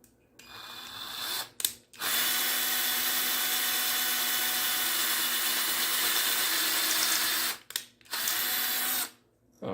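A power drill bores into a 3D-printed Super Mario statue with a loud, close, high whine, running in several sustained bursts broken by brief stops and restarts.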